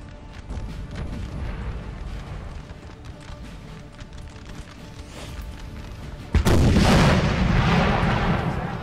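Artillery fires across a Napoleonic battlefield in Napoleon: Total War, a rolling series of distant booms and crackling gunfire that swells into a loud, close barrage near the end.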